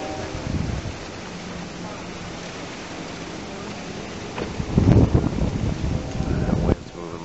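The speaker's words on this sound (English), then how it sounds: "That wind's moving my cable." Wind blowing outdoors at night, a steady low rushing with gusts that swell louder and rougher toward the end, heard close to the microphone with no talk.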